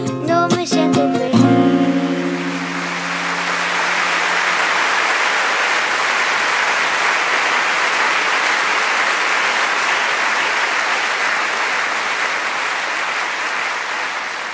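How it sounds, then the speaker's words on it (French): A theatre audience rises into thunderous applause after a song ends, a dense, steady roar of many clapping hands that runs on alone, following a brief musical ending. "la salle se leva et éclata en un tonnerre d'applaudissements"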